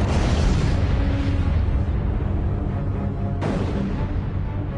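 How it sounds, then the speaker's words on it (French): Supernova explosion sound effect, a huge sustained roaring rumble with a dense hiss that fades slightly, then a sudden second burst of crackling noise near the end, loud and unbroken throughout. "La supernova explose en émettant des quantités d'énergie"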